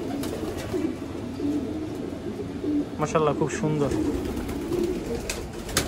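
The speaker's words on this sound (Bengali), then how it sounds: "হচ্ছে মাদি কবুতরগুলো" Female pigeons coo in a loft, a low steady cooing murmur that runs throughout at close range, while a person speaks briefly partway through.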